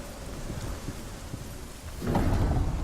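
Steady rain hisses in the video game Hellblade: Senua's Sacrifice, with a deep rumble of thunder swelling louder near the end.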